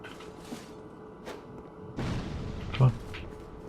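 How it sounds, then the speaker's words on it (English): A bomb is thrown and explodes in Dark Souls 2, a dull boom near the end among soft game thumps and ambient noise, with someone talking faintly at times. "Let's throw a bomb at you."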